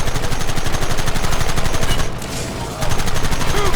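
Rapid, continuous automatic gunfire from a Red Dead Redemption shootout, loud and dense bursts hammering almost without pause, with a brief dip in intensity midway before the firing resumes.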